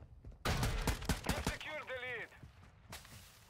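Rapid bursts of close gunfire in Call of Duty: Modern Warfare II, a dense volley of loud shots followed by a whistling, warbling game effect and a final single crack.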